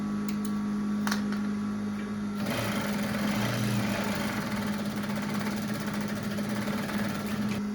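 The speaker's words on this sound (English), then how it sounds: "Back stitching. I'll be sewing my hem." A sewing machine backstitching and then running along a garment hem near a sleeve, giving a steady, close mechanical hum with fast ticking needle strokes that continues without a break.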